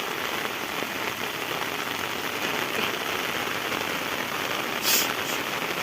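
Heavy rain pours down steadily during village hook fishing, a dense continuous patter on surfaces close by, with no voices over it.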